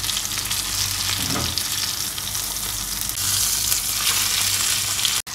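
Kerala-style fish fries in a pan with a loud, steady sizzle throughout, briefly broken by a soft scrape as the fish is turned over.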